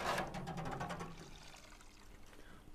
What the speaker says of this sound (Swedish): dags att skölja av det.